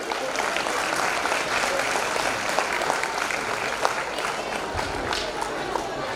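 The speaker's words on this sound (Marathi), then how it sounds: "आपण त्यांचे सुरुवातीला एक जोरदार टाळ्या वाजवून अभिनंदन करू." Steady, dense applause from a school audience of parents and students congratulating the school management at an event in Karad, sustained clapping throughout with a faint murmur of voices mixed in.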